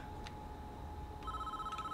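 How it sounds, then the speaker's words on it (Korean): A telephone rings inside the Prison Architect prison-building game, with short electronic ring bursts and a steadier tone near the end over a low background hum. "전화가 또 오네요."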